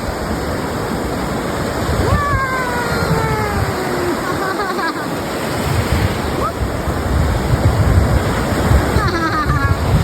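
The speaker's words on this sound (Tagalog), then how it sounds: "Ang lalaki ng alon, no?" Ocean surf roars continuously at Onjuku beach, Japan, a loud, wind-blown rush of big crashing waves up close, with occasional voices calling over it.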